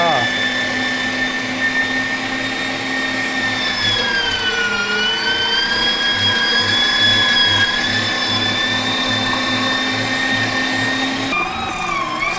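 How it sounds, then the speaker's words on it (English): Homeleader electric meat grinder running steadily while grinding beef, a loud continuous motor whine with harmonic tones that dips briefly in pitch midway under load, close and uninterrupted for the whole stretch. "And now we can grind my meat."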